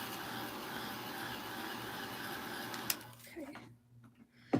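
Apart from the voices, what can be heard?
small quiet dryer running while drying a craft project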